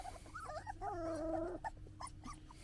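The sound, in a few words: litter of puppies whimpering before feeding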